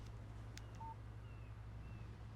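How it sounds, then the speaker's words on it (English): A short electronic phone alert chirps for a text message in the Alan Wake video game, a brief tone over a steady low hum with a few faint blips. "Text message from Barry."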